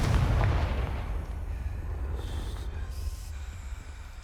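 A Confringo blasting spell goes off in Hogwarts Legacy, a loud low boom at the start that rumbles and fades into a long, noisy tail.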